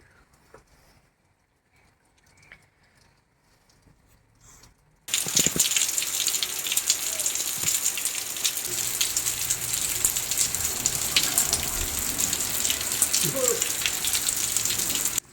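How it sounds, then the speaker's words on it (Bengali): Heavy rain pours outside, starting abruptly after a few quiet seconds and then holding as a dense, loud, steady hiss and patter of drops on surfaces. "মুষলধারে বৃষ্টি হচ্ছে"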